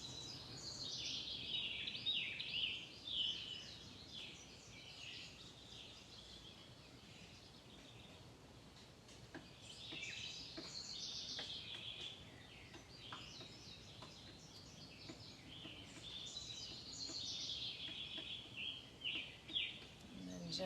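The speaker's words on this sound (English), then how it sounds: "just like the birds singing" Small birds singing outdoors in summer, bright chirping phrases recurring every few seconds at moderate distance over a steady background hiss, with no one talking.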